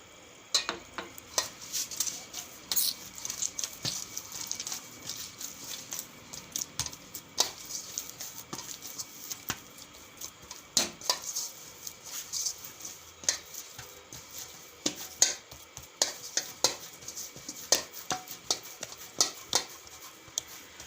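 Bajra millet flour dough mixed with methi being worked by hand, giving soft repeated squishing, pressing and slapping sounds at an irregular rhythm, close and fairly quiet with no talk.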